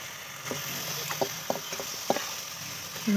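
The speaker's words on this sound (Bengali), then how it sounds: "মশলাটা কষানো হয়ে গেছে" Spice masala fries in a pan as a curry base for meat, heard as a faint, continuous sizzle with a handful of soft, scattered clinks from stirring, with no speech.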